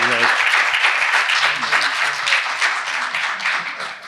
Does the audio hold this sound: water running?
no